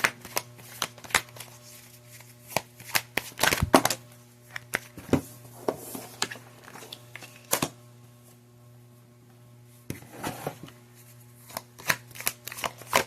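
A deck of Higher Love Oracle cards is shuffled close up in crisp, papery bursts of riffling and snapping, with pauses in between and no one talking.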